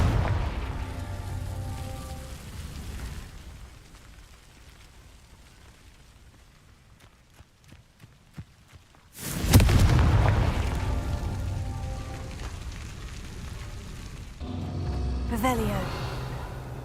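Confringo blasting spell exploding in the video game Hogwarts Legacy: a sudden loud boom bursts out after a quiet stretch, with a rumbling tail, a second smaller burst follows later, and a voice talks beforehand.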